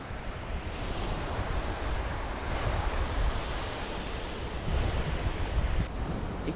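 Pacific waves roll onto Shichirigahama beach in Kanagawa, a continuous wash of surf blended with gusting wind that buffets the microphone, with no voices.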